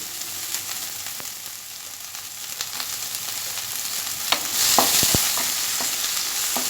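Green chillies and garlic pieces fry over medium heat in a pan, a close steady crackling sizzle punctuated by sharp spatula scrapes and knocks, loudest toward the end, with no speech.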